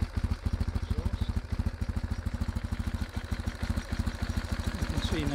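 A BMW 1150GS motorcycle engine idles steadily nearby, its exhaust giving a fast, even, throbbing pulse with a slight clatter.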